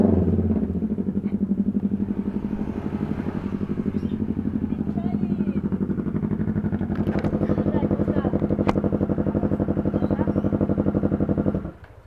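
A Yamaha NMAX motor scooter drones steadily while riding, a close, continuous engine hum with road rumble that cuts off at the end.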